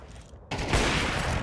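A burst of rapid gunfire in a competitive first-person shooter match, starting abruptly after a quiet moment and continuing loud and dense as a fusillade to the end.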